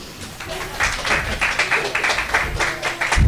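An open-mic comedy audience in a downtown venue claps in a brief, uneven burst of scattered hands, fairly close, rising and falling over a few seconds.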